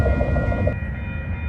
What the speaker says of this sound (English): we got a CPKC train coming down the line